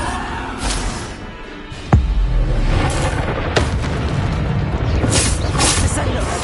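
A Bombarda spell explosion bursts with a sudden deep boom in the video game Hogwarts Legacy, then rumbles on under dense, loud game noise and a voice.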